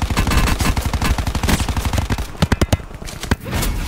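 Rapid automatic gunfire in Call of Duty Black Ops 4 Blackout, loud and close, with fast regular bursts that break into a few separate shots before the firing resumes.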